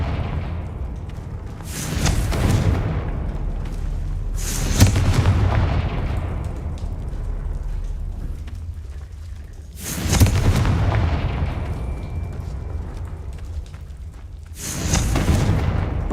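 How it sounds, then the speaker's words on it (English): Confringo spell explosions in Hogwarts Legacy on PS5 go off as four heavy blasts at uneven intervals. Each has a sharp crack followed by a long rumbling decay, with no voices over them. "Confringo!"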